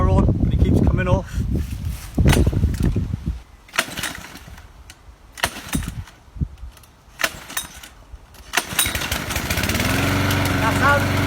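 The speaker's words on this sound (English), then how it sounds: "That's how to start a mower." A petrol lawn mower being started by pull cord: several rough yanks and sputters, then the engine catches and settles into a steady running drone at the end, with a person talking in between.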